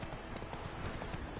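Horse galloping in The Witcher 3: Wild Hunt, a rapid, continuous clip-clop of hooves close by over a steady background hum, with faint speech mixed low underneath.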